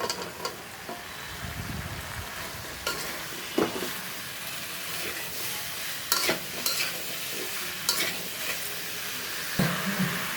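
Taro stolons tossed into a pan of spices and dried fish being stirred, with a steady frying sizzle and repeated scraping stir strokes throughout, no talk.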